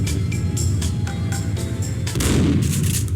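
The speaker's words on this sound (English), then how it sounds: "if you shoot the speaker that is playing the annoying elevator music," Gunshots fired at an elevator speaker in Max Payne, over soft elevator music: a rapid series of sharp, loud shots in quick succession, followed by a heavier burst near the end.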